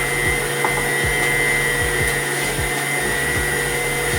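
Stand mixer beating rich brioche bread dough at medium speed, a steady close whirring motor hum with a faint rhythmic thump from each turn of the beater, running without talk.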